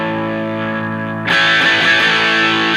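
Guitar through a DIY distortion pedal with a 1.6 kHz EQ boost, a held distorted note then a harsh, nasal chord struck loud and sustained, close and alone.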